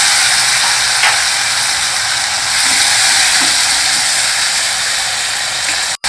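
Chopped tomato, slit green chili and ginger sizzle and fry in a pan for an Indian dal side dish, a steady bright crackling hiss with occasional stirring clicks.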